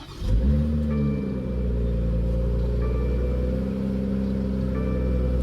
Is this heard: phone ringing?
no